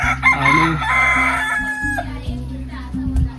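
A rooster among village backyard chickens in coastal Konkan crows loudly near the listener, with rising and falling calls over steady clucking and low rural background hum.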